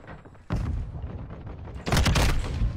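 Loud shotgun and rapid gunfire in the first-person shooter Call of Duty: a blast, then sustained shooting, and a denser, heavier volley near the end, with no talk.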